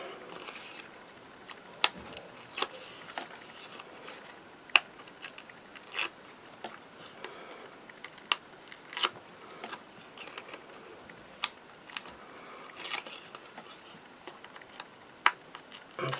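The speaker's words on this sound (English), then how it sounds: "is peeling all these backings off" Backing paper being peeled off small foam pads for a Hunkydory card craft, heard as a series of close, light crackles and sharp little ticks scattered irregularly over a quiet background, with no talking.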